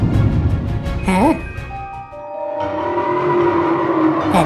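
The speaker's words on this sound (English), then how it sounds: "A ghost train?" A toy ghost train runs along its track with a rattling rumble, a rising and falling whistle-like tone, and a later sustained hum, alongside voices.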